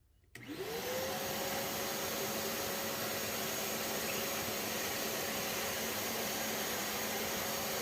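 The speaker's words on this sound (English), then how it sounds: "I'm gonna use a HEPA filter vacuum. I'm actually gonna vacuum off the spores" A HEPA filter vacuum cleaner sucks mold spores off drywall, switching on after a brief pause and then holding a loud, steady whine with a rushing airflow hiss for the rest of the clip, with no talking.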